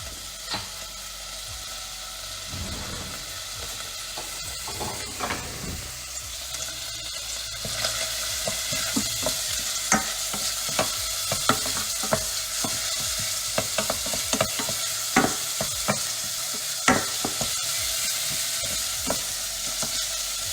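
Shallot sautéing in a hot pan, a continuous bright sizzle broken by scraping and stirring strokes from a utensil, close and fairly loud, with no talking.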